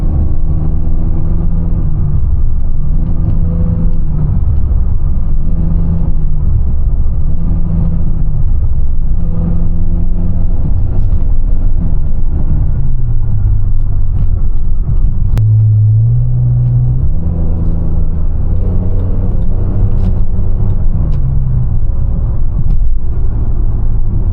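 A straight-piped BMW E39 with open exhaust, heard from inside while driving, gives a loud, steady low rumble with engine tones that rise and fall through gear changes and a brief surge near the middle.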